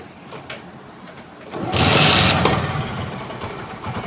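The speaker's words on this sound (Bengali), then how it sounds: "দেখুন এবার গাড়িটাকে আমি স্টার্ট করছি।" A motor vehicle engine starts after the key is turned on: quiet ambience, then a loud cranking surge that catches and settles into a close, steady running note.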